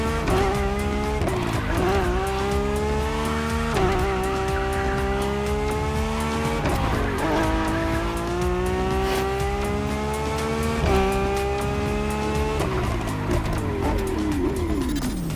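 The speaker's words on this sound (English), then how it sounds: "here's how the car sounds on the Crew" A Lamborghini Revuelto in The Crew Motorfest roars loudly through repeated rising revs and gear changes, the engine pitch climbing and dropping in cycles, with tire squeal and no talking.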